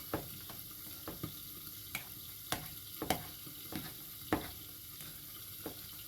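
Boiled potatoes being pressed and mashed with a masher in a pot for mashed potatoes, irregular soft thuds and taps over a steady background hiss, fairly faint and close.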